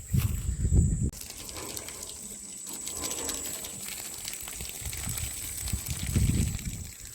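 Water gushing and spraying through a garden sprinkler clogged with lime and calcium buildup, being flushed outdoors on a farm plot; a steady rushing hiss with heavier low surges at the start and near the end.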